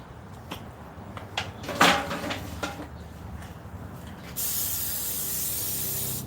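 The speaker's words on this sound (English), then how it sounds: "Spray the inside of the dish good." Cooking spray hisses from an aerosol can into a baking dish as a steady spray lasting about two seconds near the end, after a few soft knocks and clatters of handling nearby.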